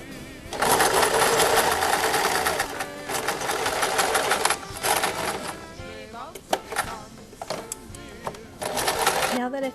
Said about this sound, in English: I'm going to sew the second one that same way